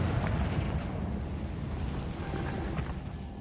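Confringo blasting spell exploding in the Hogwarts Legacy video game, a dense, sustained rumbling blast with crackling bursts that fills the whole moment at steady loudness, no voices over it.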